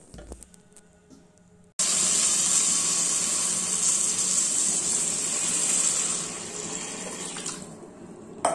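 Water is poured steadily into a cooking pot for semolina kichadi, a continuous splashing and hissing pour lasting several seconds after a quiet start, loud and close, tapering slightly before stopping.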